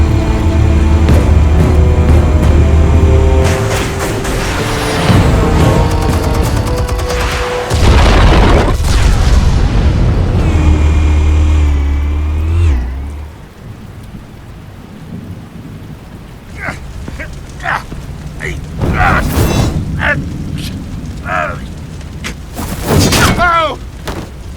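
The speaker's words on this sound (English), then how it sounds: "Explosives armed. Fire when ready." Explosives detonate in the Batman: The Telltale Series game as loud, rumbling booms under a thick musical score, with a heavy burst early on, then scattered crackling debris and sharp blasts trailing off near the end.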